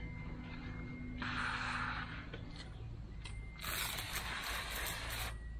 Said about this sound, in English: grab your sprayer and spray under that leaf